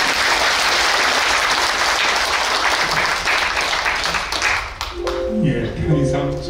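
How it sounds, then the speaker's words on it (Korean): Warm audience applause at a Korean human rights discussion forum, sustained clapping that thins out toward the end as a few scattered claps and a voice emerge. "여러분 다시 한번 뜨거운 박수로 함께."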